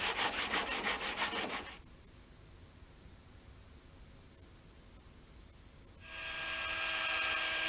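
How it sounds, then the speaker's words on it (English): Sandpaper is rubbed back and forth over the rounded wooden corners of a handle and skid for a manual rotary paddy weeder, in quick rhythmic strokes that stop after a couple of seconds, followed by a quiet pause and then a steady, louder rasp. "finish them up with sandpaper"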